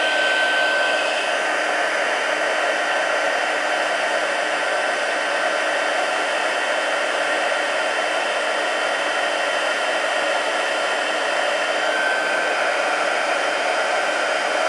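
A heat embossing tool blows hot air at close range while card-making, a loud constant whooshing roar that runs through the whole clip without a pause.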